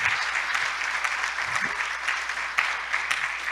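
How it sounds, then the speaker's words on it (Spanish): A church congregation at a Spanish-language service applauds in welcome, a steady bright patter of many hands clapping with a few louder claps standing out, moderately near. "¿Por qué no damos un aplauso, gloria a Dios, de bienvenida a todos nuestros amigos?"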